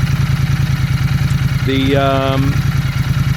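Royal Enfield Interceptor motorcycle fitted with a TEC Stinger 2-1 exhaust idling close by, a loud steady pulsing thump with a short tonal whistle partway through, and a brief spoken word at the start.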